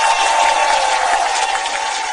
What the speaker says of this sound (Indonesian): Coba saya dengar tepuk tangannya gimana?